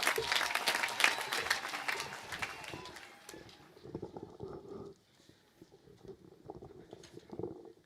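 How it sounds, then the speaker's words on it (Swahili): Audience clapping for Kenyan politician Dede Nyoro at a funeral gathering, loud and dense at first, then thinning to scattered claps as a voice begins speaking over it. "useme na makofi mazuri ya Mheshimiwa Dede"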